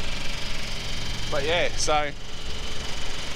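A small engine on a Kings 2 kVA portable generator runs steadily with a low, even hum while someone speaks briefly over it.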